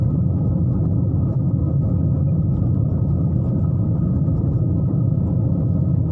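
A car rolling along a gravel road on a highway near Birgunj, Nepal, heard from inside as a steady, loud low rumble that continues unbroken with no talking.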